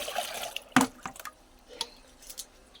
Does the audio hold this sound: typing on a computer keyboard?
no